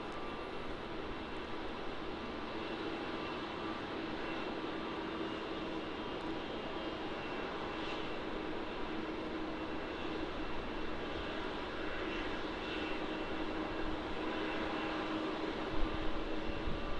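Airplane at Melbourne Airport, Australia, heard as a steady, broad engine roar that holds throughout, moderately loud and fairly distant, with no voices over it.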